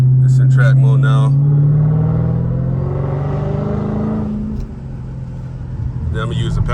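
A Dodge Charger Hellcat with a mid-muffler delete rumbles loud and close, its deep exhaust drone rising and then easing off, with someone talking over the engine at the start and end.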